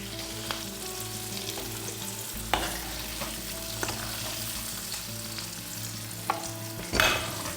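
Kohlrabi in hot oil sizzling steadily in a pressure cooker, with occasional clinks and scrapes as it is moved and stirred, and a louder clatter near the end.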